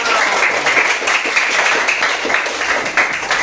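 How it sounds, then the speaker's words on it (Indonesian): A classroom of students applauds together for themselves at a teacher's prompt during a lesson, a steady dense wash of many hands clapping that holds evenly at close range. "kasih tepuk tangan untuk kita semua"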